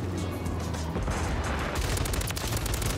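Rapid automatic fire from a Ram 7 rifle in the video game Modern Warfare 3, a dense, continuous rattle of shots with booming impacts, loud and up close, with no talk.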